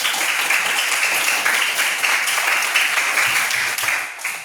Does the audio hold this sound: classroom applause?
yes